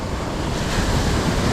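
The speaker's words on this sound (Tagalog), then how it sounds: "lakas na rin ng alon" Ocean surf rolls onto a Philippine shore at rising tide in rainy weather, a dense, loud wash of water mixed with wind buffeting the microphone. It is continuous throughout the short moment, with no voices.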